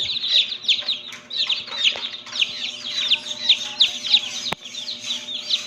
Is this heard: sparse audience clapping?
no